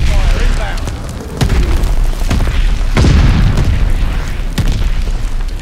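Mortar shells land in Call of Duty Vanguard on the Berlin map with several heavy, rumbling booms spaced a second or two apart over a loud battlefield din, with voices calling out over it.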